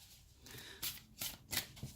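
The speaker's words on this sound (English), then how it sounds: "So they're kind of easy to shuffle." Onyx tarot cards being shuffled up close, four quick riffling bursts in an uneven rhythm with soft rustling between them.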